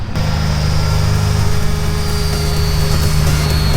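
A small RC model airplane engine, the A500 Corsair cartoon-style plane, drones loudly and steadily overhead, a buzzing high-pitched whine holding constant throughout.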